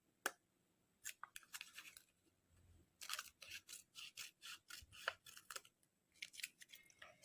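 Scissors snip through paper to cut out handmade text stickers for a journal, a quiet series of short crisp cuts in irregular bursts, then a quicker run of rhythmic snips, with no talking.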